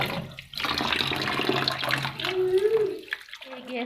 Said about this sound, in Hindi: एक एक पीस को हम अच्छी तरह से धो के तो साफ करके रखते जाएंगे।